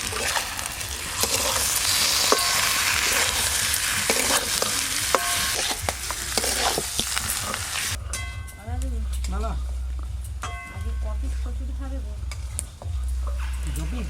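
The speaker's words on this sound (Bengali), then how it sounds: "আদা রসুন দিয়ে খুব ভালো করে নেড়ে নিয়েছি এবার দেবো টমাটো কুচি আর গুঁড়ো মশলা" Chopped tomato, salt, cumin, chili and turmeric powder sizzle in a pan with ginger and garlic for kachuri and aloo dum, loud steady frying with scraping stirs, then a quieter crackle under a low rumble.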